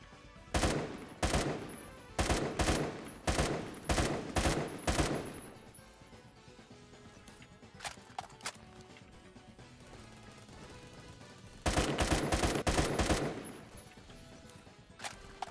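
Gunfire in a first-person shooter video game, loud bursts of rapid automatic shots in clusters, with a quieter scattered exchange between and another heavy burst near the end, no speech.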